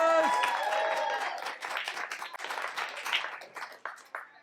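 An audience at a 20th-anniversary poetry slam in a public library claps after a poem; a voice talks at first, then scattered, fairly faint hand claps follow unevenly.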